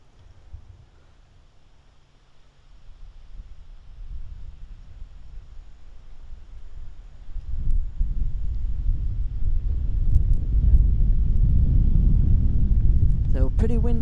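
Wind gusting across an open golf course in Norton during a boys' varsity match, starting as a faint low rumble and building to a strong, steady buffeting against the microphone.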